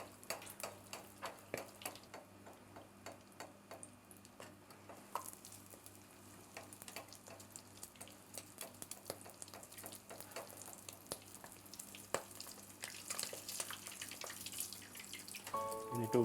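An egg fries in hot oil for Tunisian tuna spring rolls. It gives a steady, fairly quiet sizzle with irregular pops and crackles, and the spitting grows busier toward the end.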